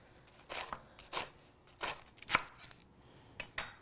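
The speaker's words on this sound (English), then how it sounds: "just take your knife and cut them very thin" A knife slices through a tight roll of kale leaves, cutting them into thin ribbons. About seven crisp, close cutting strokes come at an uneven pace, with short quiet gaps between them and no voices.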